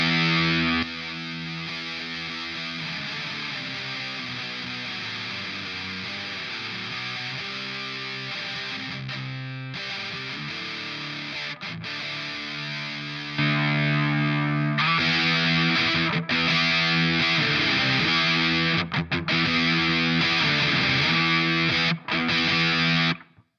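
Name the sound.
Tate FX Sirens Scream distortion pedal guitar tones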